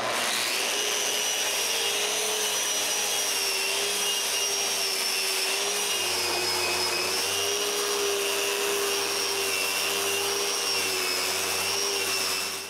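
Sander working a wooden live-edge mantel with 60-grit sandpaper: a steady, loud whirring drone with high tonal whine that holds evenly throughout, with no talk.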